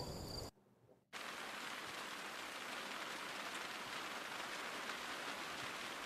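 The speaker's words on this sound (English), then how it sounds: "rain on the window" Steady rain patters against glass in a dense, even hiss, broken by a brief near-silent gap early on, then continuing unbroken.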